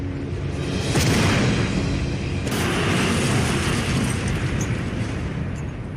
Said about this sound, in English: Explosions are taking place all over the town.